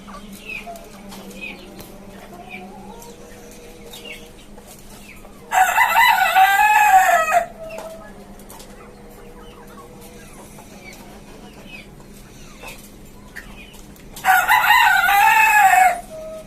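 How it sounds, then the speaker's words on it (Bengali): A tiger breed rooster in a rooftop cage poultry farm lets out two loud, drawn-out crows about nine seconds apart. Softer clucking and chirps from other fowl fill the gaps between them. "এটা হচ্ছে আরেকটা টাইগার মোরগ"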